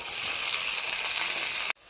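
Potatoes and drumstick stems fry in hot oil with a steady, close, loud sizzle that holds evenly and then cuts off abruptly near the end.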